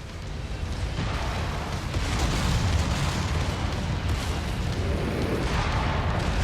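A battle mech blowing up in MechWarrior 5: Mercenaries, a heavy, sustained rumbling explosion with crackling bursts and deep booms rolling on over several seconds, loud and dense with no talk over it.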